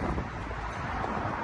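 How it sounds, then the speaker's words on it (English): Strong wind buffets the microphone outdoors by a front garden on a street, giving a loud, constant low rumble and roar with no voices. "It's really windy today, so apologies for any extra noise."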